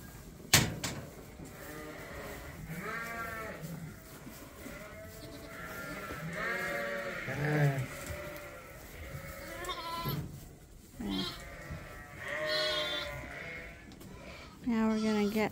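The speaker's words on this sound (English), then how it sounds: "we got some sheep ready to go out into the pen" Sheep and bottle lambs bleat over and over in a pen, with several close, loud, wavering calls overlapping while people talk nearby.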